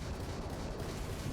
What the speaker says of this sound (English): I'm gonna shoot him with the ballistic cannon.